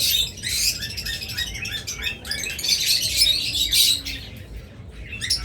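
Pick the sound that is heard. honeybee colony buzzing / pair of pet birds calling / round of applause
pair of pet birds calling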